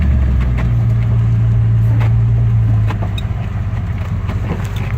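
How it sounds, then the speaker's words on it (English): A steady, medium-pitched exhaust rumble from a 1951 Ford F1 pickup with a 302 Ford V8, loud and close, holding even before easing slightly toward the end. "exhaust has kind of a medium rumble, nothing too throaty"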